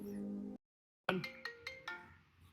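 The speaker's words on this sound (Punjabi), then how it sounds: "Lovely Bhai the phone" A mobile phone rings for an incoming call: a sustained tone, a brief silence, then a quick series of bright chiming notes, clear and close.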